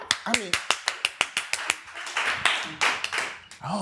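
Clapping during a singing performance by a 14-year-old vocalist, a run of sharp evenly spaced claps in a steady rhythm that gives way to louder, looser clapping with voices mixed in.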